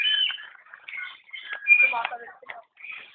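A bird calls outdoors in a series of short chirping and warbling notes, fairly close and clear, with pauses between phrases.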